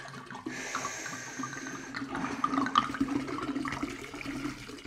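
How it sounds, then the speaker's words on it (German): A bottle of liqueur glugs steadily into a carnival punch bowl, a continuous close pour of splashing liquid with no voices. "Davon hauen wir 2 Flaschen in unsere Bowle."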